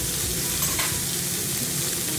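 Garlic sizzling in butter in a cast iron skillet, a steady close crackling fry with soft bubbling, alone and continuous for a couple of seconds.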